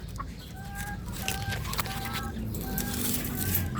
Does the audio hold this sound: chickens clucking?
yes